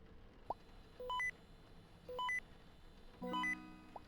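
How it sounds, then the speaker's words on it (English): An alarm in the video game Last Report beeps in three rising stepped-tone patterns, evenly spaced about a second apart over a faint hum, clean and electronic. "I hate how stupid alarm goes off when I'm looking at the computer."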